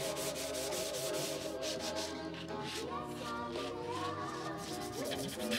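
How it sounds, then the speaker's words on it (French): Hand-sanding a varnished wooden clock with 320 then 500 grit sandpaper, a steady close scratchy rubbing with rhythmic back-and-forth strokes, quiet in level with no voices. "Ensuite, je reponce après les 2 couches de vitrificateur"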